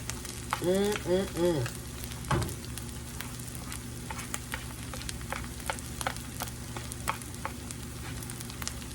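Fresh corn sears in a hot skillet with a steady crackling sizzle that continues for the whole stretch. A short voice-like sound comes at the start, and soft stirring or scraping ticks run through it.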